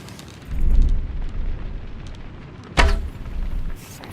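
A smithy burns in Kingdom Come Deliverance 2 with a steady roaring fire and rumbling crackle. A sharper burst flares up partway through, and no one speaks.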